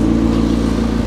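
Crash-damaged McLaren 650S Spider engine idling after nearly an hour of running, a close, steady mid-pitched hum with a pulsing low rumble and no talk.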